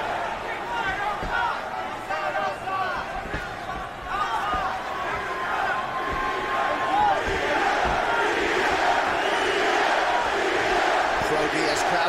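A pro-Diaz crowd at an MMA bout between Anthony Pettis and Nate Diaz roars steadily throughout, a dense, continuous arena din of cheering and shouting with a broad wash of many voices that swells slightly toward the end.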